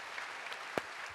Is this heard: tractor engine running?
no